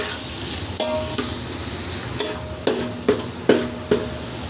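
Onions sautéing in a pan over high flame, a constant loud sizzle broken by several sharp scraping knocks as a spoon stirs and strikes the pan at irregular intervals.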